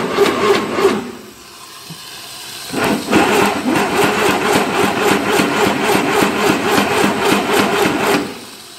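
A motorized mixing machine churns pink agarbatti premix powder in a bucket, making a loud, steady mechanical whir and rattle that stops briefly and then restarts and runs evenly, with no talking.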